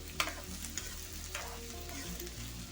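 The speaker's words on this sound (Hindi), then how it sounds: "दो मिनट प्याज लहसुन को फ्राई कर लेंगे।" Onion and garlic frying in hot oil in a wok, a steady close sizzle with a few sharp spits and stirring clatters, no voices.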